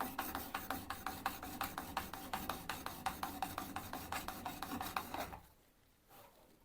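A file rasps across the edge of a hand-forged adze in a steady run of about thirty close, regular strokes, each a short gritty scrape, then stops and leaves quiet room sound.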